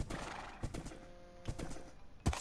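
A horse in the video game Minecraft, with several short clopping hoof hits and brief neighing bursts, moderately loud against a faint background.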